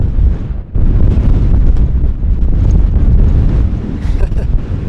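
Loud, roaring wind of about 29 mph gusts buffeting the microphone on the Pacific Crest Trail, with a brief lull near the start and then sustained heavy gusts.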